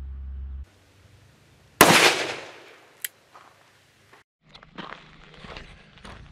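A single loud, sharp shot from a Smith & Wesson Governor revolver firing Winchester PDX1 .410 Defender at an outdoor range, followed by a decaying boom, then faint clicks and handling sounds.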